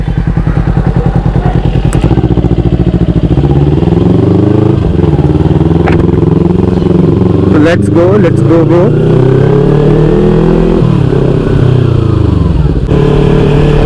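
Motorcycle being ridden on a road, its engine droning steadily close by with shifts in pitch as it speeds up and slows, while the rider talks over the engine noise.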